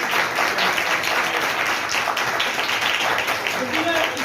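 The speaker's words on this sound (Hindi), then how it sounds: "खुदा के जलाल के लिए जोरदार ताली बजाइए।" Dense, steady applause from a large church congregation, many hands clapping continuously and loudly for several seconds.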